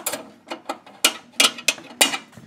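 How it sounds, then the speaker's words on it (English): A 5-lever lock on a big green treasure box is picked, giving a sequence of crisp metallic clicks and ratchet-like snaps at irregular intervals, close and fairly loud, with no voices. "It now tensions the locking bolt, and then you can just open up the box."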